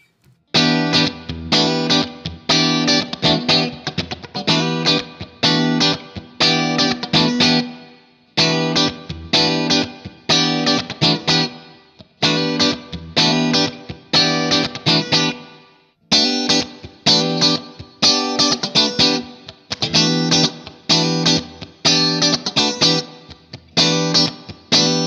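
An Ibanez MM1 electric guitar on its split-coil setting, using the two inner coils of the humbuckers, runs through an Engl Fireball 25 amp, strummed in steady driven chord phrases with short pauses, loud and continuous with no talk.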